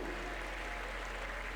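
An audience at an Independence Day poetry recital applauds: a brief burst of dense, steady clapping, fairly soft and distant, with no speech.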